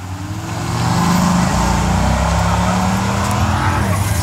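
An SRT V10 Viper launching at a drag race, a loud sustained engine roar building over the first second and then holding at full throttle, close and harsh with crowd or track noise mixed in.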